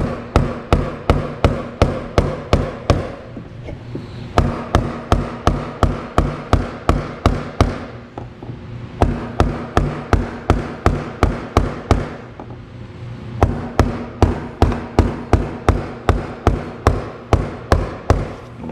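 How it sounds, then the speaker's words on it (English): A hammer strikes a fuel system part on a Jeep TJ in a steady run of sharp metallic blows, about two per second, in several bursts separated by brief pauses, loud and close with no talking. "We got a hammer and a Screw stick to do it."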